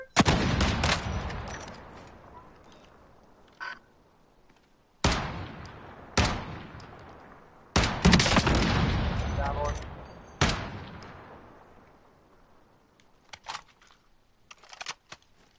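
Gunfire in a Call of Duty Warzone duos match: several sharp, loud bursts of shots and rapid fire separated by pauses, each ringing out and decaying, with quieter scattered shots toward the end.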